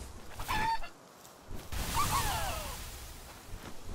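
Chikipi chickens in Palworld let out a few short, honking clucks, close and fairly loud, between quieter stretches with a soft whoosh.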